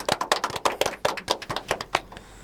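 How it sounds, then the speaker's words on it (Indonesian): Scattered applause greets a guest arriving on a small studio talk show, a few hands clapping in brisk, uneven bursts that fade out after a couple of seconds. "Tepuk tangan buat Dr. Widya."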